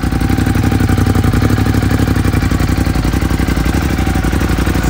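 A motorcycle engine on its stock exhaust runs steadily, close and loud, with a fast even pulsing beat and a mechanical clatter throughout, and no talk.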